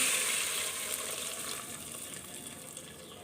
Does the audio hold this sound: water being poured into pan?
yes